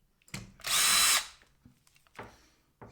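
A power screwdriver spins out a screw from a Bang & Olufsen Beosound 3000 during disassembly, one loud close whir lasting about half a second, framed by faint handling clicks.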